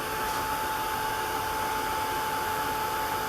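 A hair dryer blowing steadily to dry wet paint for a plastic wrap painting technique, a constant loud whir of air that holds unchanged for the whole stretch with no voices.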